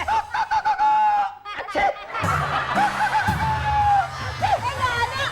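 A person imitates a clucking chicken with the flu, with wavering, strained squawks and snorts, mixed with laughter and chatter.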